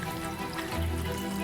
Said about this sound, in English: 2 or 3 cups of water in this.